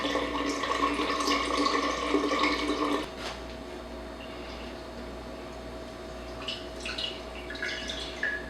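Kombucha starter liquid is drawn off into a container, a steady pouring trickle for about three seconds that then stops, leaving faint drips and light handling noises.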